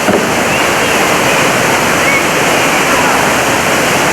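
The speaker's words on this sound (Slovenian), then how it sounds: "No, zdaj smo pa pri slapu." The Kozjak waterfall in Slovenia roaring loud and close as a steady, unbroken rush of water that fills the whole stretch.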